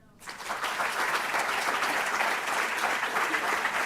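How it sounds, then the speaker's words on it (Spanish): Sudden burst of crowd applause in a university auditorium that swells quickly and continues steadily, a dense patter of many hands clapping. "Un aplauso para ellos"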